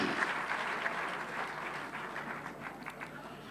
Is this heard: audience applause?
yes